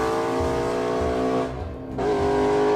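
A 2025 Ford Mustang Shelby GT500 accelerating hard on an empty highway, its engine note climbing loudly through the revs, then a brief dip at a gear change before it pulls hard again.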